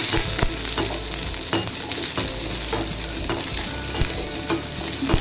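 Garlic and ginger sautéing in hot oil in a pan, a loud continuous sizzle with intermittent clicks and scrapes of a stirring spoon against the pan, close and steady.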